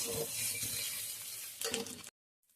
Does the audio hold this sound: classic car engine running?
no